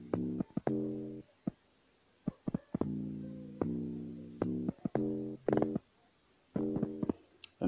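An amapiano log drum programmed in FL Studio Mobile thumps in a syncopated pattern of deep, resonant pitched hits, some short and some sustained, with gaps of near silence between phrases and no talking.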